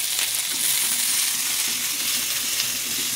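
Garlic and tamarind fry in a spoonful of oil for kobera chutney, giving a continuous bright sizzle with faint stirring movements underneath, close and steady.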